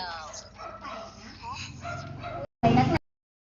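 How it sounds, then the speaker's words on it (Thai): A small dog yips and barks repeatedly during a mobile Free Fire gaming session, close and fairly loud, with a short sharp burst near the end before silence; a person talks over it. "จะเห่าอะไรนักหนาวะลำคาญ"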